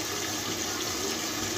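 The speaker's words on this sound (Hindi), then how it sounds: "तकरीबन आधी प्याली इसमें पानी डालेंगे और इसे आलू गलने तक के लिए दम पे लगा देंगे" Water poured into a pot of potatoes and fenugreek leaves cooking for aloo methi bhujia, a steady continuous pouring wash with no talk.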